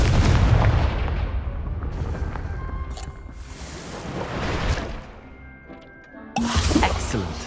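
Confringo blasting spell in the Hogwarts Legacy video game: a loud, booming explosion that rumbles and fades over several seconds, then a second burst of blast noise near the end. Heavy and close.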